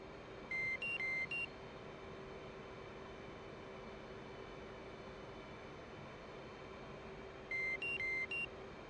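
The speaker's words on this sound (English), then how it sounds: "The reason you keep hearing it beeping at me is because I'm low-ish on fuel" Low fuel warning beeps in the DCS World Supercarrier flight sim sound as two short bursts of rapid tonal beeps, one near the start and one near the end, over a steady engine drone.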